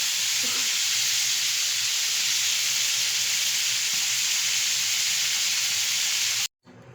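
Chicken pieces fry in a pan with a loud, constant hiss and sizzle. A faint clunk of flipping sounds near the start, and the sound cuts off abruptly just before the end.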